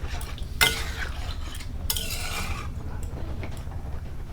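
Mutton curry with potatoes is stirred in a pot, with a sharp metallic clank early on and a longer scraping pass of the spoon, then quieter stirring.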